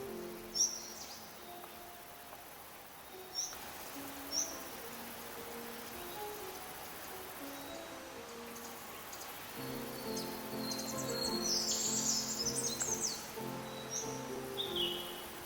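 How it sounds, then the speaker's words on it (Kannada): A small grey-headed bird with a dark brown tail calls from foliage near Sirimane waterfall in the Western Ghats, giving short faint chirps and a few sharp notes against a soft background of forest hiss. "ಎಲೆ ಮರೆಯಲ್ಲಿ ತನ್ನ ಸಣ್ಣ ಕೊರಳಿನಿಂದ ಸದ್ದು ಮಾಡುತ್ತಿದ್ದ ಬೂದಿ ತಲೆ ಕಪ್ಪು ಕಪ್ಪು ಕಂದು ಬಾಲವನ್ನು ಹೊಂದಿದ್ದ ಪಕ್ಷಿ ಸಿಕ್ಕಿತು"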